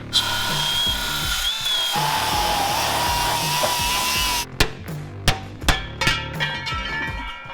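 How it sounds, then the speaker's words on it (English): A power grinder works rivets off a tow truck's steel frame: a sustained whining drone for several seconds, then sharp separate bursts of grinding contact and metal knocks, close and loud, with no voices. "I'm gonna go back to getting grinding those rivets away"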